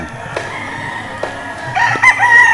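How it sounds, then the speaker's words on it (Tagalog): A few sharp knocks, then a White Kelso gamecock crows once near the end at a game farm, loud and close. "papasyal ko kayo sa mga manok"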